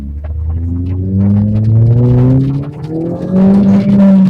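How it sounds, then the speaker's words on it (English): A Suzuki Swift Sport ZC33S pulls away hard in first gear on a wet road, its engine loud and close, revving and climbing steadily in pitch as it accelerates, with a low rumble throughout. "Okay, we're going to do a first gear pull out the hole."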